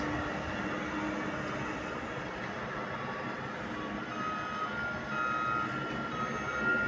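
A snow-clearing truck works at night during heavy snowfall in Canada, its reversing alarm beeping steadily over a constant low engine rumble; the beeping grows clearer toward the end.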